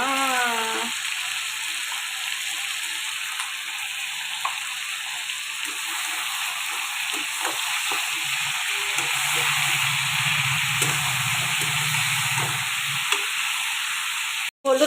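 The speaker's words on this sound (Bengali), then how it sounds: "লবণ দেওয়ার পর এটা এরকম ভাজা ভাজা হয়ে এসছে" Chicken frying in a pan with salt added, a steady broadband sizzle and hiss running throughout at close range, with a few soft stirring clicks and a low bubbling patch midway.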